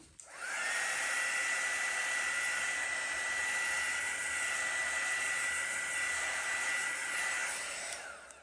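A heat gun or dryer-like blower runs steadily for about eight seconds over a Dutch pour fluid art painting, a loud continuous whooshing roar with a high whine, starting and stopping cleanly and heard alone.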